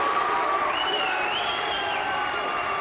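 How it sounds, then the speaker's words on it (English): Crowd at a 2008 tenpin bowling match cheering and applauding loudly after a strike, a dense sustained roar of claps and shouts with whistles over it. "The crowd go ballistic."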